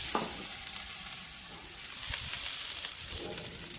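Stuffed hash browns topped with cheese frying on a Blackstone griddle, a steady, close hiss of sizzling oil with a few faint spatula scrapes and no talking.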